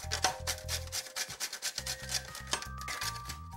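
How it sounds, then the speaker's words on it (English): Lemon zest is grated over cooked shrimp in a kitchen, giving repeated close rasping strokes in an uneven rhythm, soft and alone. "to this, I'll add some lemon zest"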